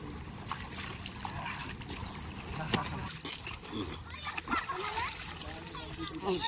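River water splashes and trickles steadily nearby as people bathe, with scattered splashes and faint voices in the background.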